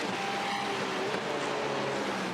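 Sim racing cars at the Nürburgring in a Porsche Cup endurance race, engines whining steadily as one passes another, a continuous moderate drone with a faint rising tone and no talk over it.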